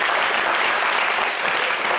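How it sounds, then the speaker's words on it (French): Audience applause at a live entertainment show, a dense continuous wash of clapping that stays loud and even throughout. "Bon, on l'applaudit encore, Ozone Afrique Bamba."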